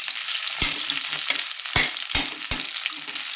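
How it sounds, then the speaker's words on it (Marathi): Onion shallow-frying in a pan gives a soft continuous sizzle broken by a few sharp clacks of a spoon against the pan, close and without talk. "कांदा आपला चांगला फ्राय झालेला आहे"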